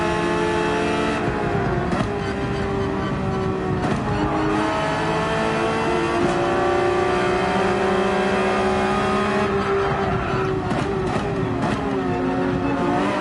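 Gran Turismo 7 race car held at full throttle through fast turns, a steady high-revving engine whine with clear gear-shift dips, loud and close throughout.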